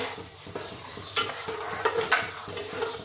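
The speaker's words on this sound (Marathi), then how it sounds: "आता आजी गव्हाचं पीठ घ्यायला लावलेलं आहे आजीनी आणि ते कढईत जाडबुडाच्या कढईत लोखंडी कढईत भाजून घेते." Wheat flour roasts in a heavy thick-bottomed iron wok, stirred with rhythmic scraping strokes over a faint dry sizzle, close and fairly quiet.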